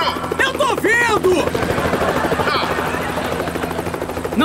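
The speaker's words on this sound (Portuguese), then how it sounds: "Estamos no helicóptero!" Helicopter rotor chop throbs loudly and continuously throughout, with excited voices shouting and talking over the steady beating drone.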